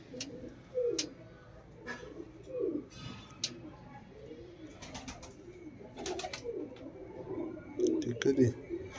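Punjabi Malwai pigeons, a group of males and females kept for sale, coo in low repeated bursts close by, with scattered ticks and clicks around them and someone talking over parts of it.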